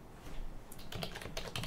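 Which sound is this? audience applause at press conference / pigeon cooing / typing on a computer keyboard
typing on a computer keyboard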